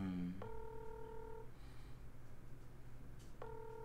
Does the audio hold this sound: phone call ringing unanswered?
yes